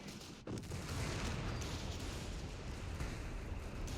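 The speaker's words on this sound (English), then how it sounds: "Again, lots of mortar pits helping to clear up any infantry in mid." Mortar and artillery fire rumbles through a 4v4 Company of Heroes 3 battle on the Steppes map, a dense, continuous wash of distant blasts and shots, fairly quiet and with no voices.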